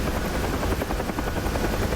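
Helicopter in a festive rescue mission video game, a steady close rotor chop with a continuous whirring drone, loud and unbroken, no talk over it.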